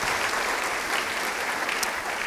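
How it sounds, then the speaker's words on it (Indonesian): A church congregation breaks into applause, a dense, continuous wash of many hands clapping at an even loudness with no clear individual claps. "Yang setuju beri tepuk tangan bagi Tuhan."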